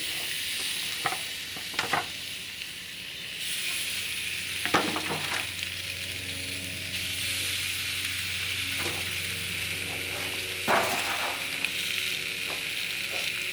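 Mojo criollo chicken pieces laid skin side down on a hot grill give a steady, fairly loud sizzle throughout, with a few brief clatters and scrapes, near and with no voices.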